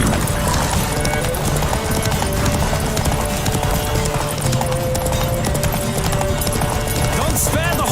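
Horse hooves galloping in The Witcher 3 video game, a fast continuous clip-clop rhythm under game music and riders shouting, loud and close throughout.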